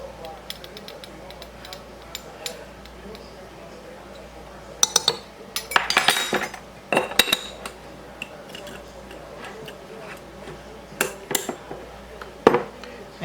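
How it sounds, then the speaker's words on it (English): A spoon folds salt into fresh homemade butter in a bowl, giving scattered clinks and scrapes against the dish, with a brief cluster of sharper knocks near the middle, close and fairly quiet between the sounds. "I'm going to just fold it over on itself to mix that salt in"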